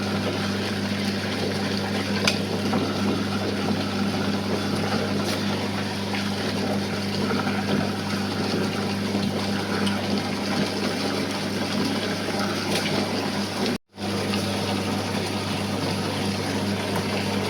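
A mixer grinder chops and grinds ash gourd pieces with no water added, giving a steady, continuous motor whir that runs evenly almost to the end and cuts out for a moment near the close.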